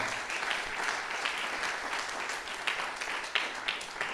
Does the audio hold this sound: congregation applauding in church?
yes